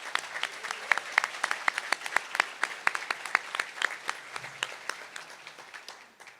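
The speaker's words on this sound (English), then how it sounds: "Let's give them a round of applause." An audience at an awards luncheon claps in sustained applause, crisp dense hand claps that hold steady and then taper off slightly toward the end.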